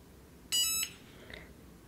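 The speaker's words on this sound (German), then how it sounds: "So, die hat jetzt gepiepst" A Cricut Mug Press gives a single short, clear electronic beep when it finishes, followed by quiet room noise.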